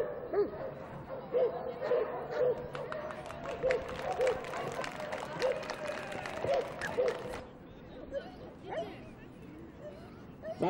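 A dog barks repeatedly in a steady, close rhythm at a large Moscow training ring in the 1990s, with crowd noise and voices underneath, then stops and leaves quieter background murmur.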